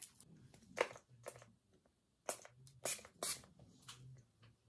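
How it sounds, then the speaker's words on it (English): A handheld spray bottle fires several short, sharp hissing bursts in an irregular rhythm, close and fairly quiet, with faint handling noise between the sprays. "Let's spray it."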